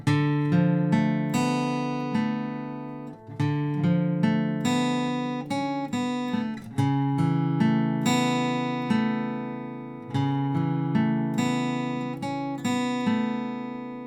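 Guitar strummed through the chord progression of a song, ringing chords each struck cleanly and left to sustain, changing every second or two at a steady pace without any voices.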